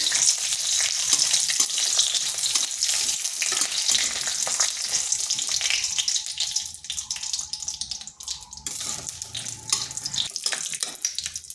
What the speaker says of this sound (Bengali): কাজুটাকে হালকা ভেজে নিচ্ছি